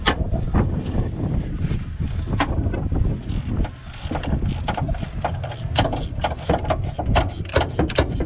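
A ratchet wrench clicks in quick, uneven bursts of sharp ticks, close up, while work goes on under a car with a jack set beneath the differential.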